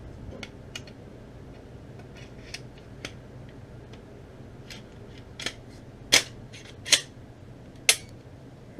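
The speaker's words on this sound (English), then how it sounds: "Put the gun back together." Glock pistol parts clicking back together during reassembly, a few sparse light ticks early on, then three sharp, louder metallic snaps near the end against a quiet background.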